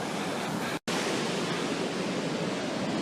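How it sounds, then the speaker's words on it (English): Ocean surf breaking steadily on a beach at Fort Ord State Park between Seaside and Marina, California, a loud continuous wash of dangerous waves with a brief dropout near the start. "So the waves are pretty dangerous around here."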